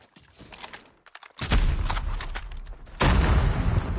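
A grenade blast and gunfire in the video game Dark Void, with quiet rattling first and then two heavy, loud bursts that fill the mix, the second arriving about a second and a half after the first.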